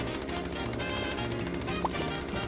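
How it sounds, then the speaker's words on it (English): A chainsaw in the video game Yeeps grinds through blocks with a harsh, continuous buzzing rattle, loud and unbroken for the whole stretch. "Chainsaw."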